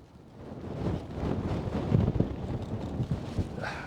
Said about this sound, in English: the wind is so relentless right now